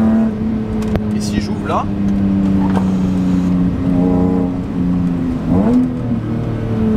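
A BMW M3 E46 Touring engine revs to around 5000 rpm, a close, loud, steady mechanical drone that rises and dips as the throttle is held and released, while someone speaks French over it.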